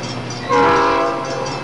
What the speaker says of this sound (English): This is sound of a train?